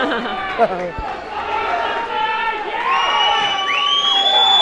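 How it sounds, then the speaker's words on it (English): A crowd cheers and shouts at an MMA fight as the bout gets underway. The noise is loud and continuous, with whoops and a few rising shouts coming through the mass of voices. "Can hear the crowd against here"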